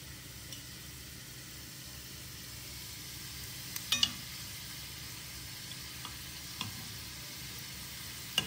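Modak dumplings fry gently in hot oil over medium heat, a soft, constant sizzle with a few faint ticks and taps from the pan, no voices.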